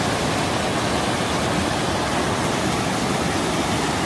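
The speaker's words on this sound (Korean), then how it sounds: "용초가 있는 폭포수" Steady, dense roar of a mountain valley waterfall in Jirisan, South Korea, loud and close, unbroken for the whole stretch with no other sounds.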